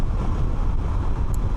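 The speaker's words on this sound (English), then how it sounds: "It's decently loud because you do have these more tires, car-like tires on the road, but you're also just hearing the noise from around." A 2025 Can-Am Canyon at highway speed gives a dense, steady roar of car-like tires on the road mixed with wind buffeting, loud and continuous, with no voices.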